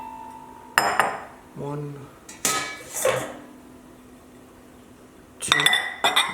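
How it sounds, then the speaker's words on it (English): Ceramic bowls set down on a kitchen counter during home meal-kit prep, giving a few sharp clinks and knocks in separate bursts while a voice briefly counts. "we're going to get your 2 medium bowls"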